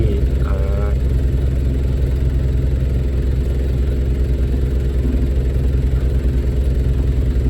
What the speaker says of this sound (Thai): เครื่องยนต์จอดครับ